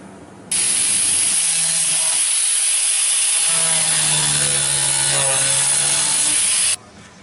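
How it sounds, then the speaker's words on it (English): A power grinder runs steadily for about six seconds, loud and close, cutting off three screw tips that poke through plywood on a pine toy box. "I got to grind these 3 screws off that came through"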